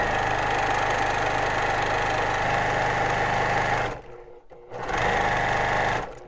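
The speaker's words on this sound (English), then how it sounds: "now let's go ahead and finish the sew." A sewing machine stitches a DIY water bottle holder for hiking with a steady, close, continuous whir. The whir stops briefly for about a second near the end, then resumes at the same pace.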